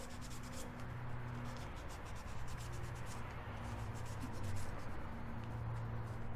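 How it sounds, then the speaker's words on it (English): A wooden ring with coral inlay being lightly sanded, giving a soft, steady rubbing hiss that continues evenly throughout, close but quiet. "I'm just giving it a light sand."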